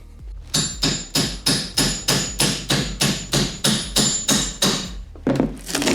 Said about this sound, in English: I don't know any better way than to just start prying on it